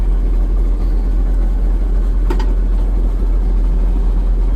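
An old tractor engine runs steadily and loudly with a deep, constant rumble as the machine is moved toward a shop, one faint sharp knock near the middle.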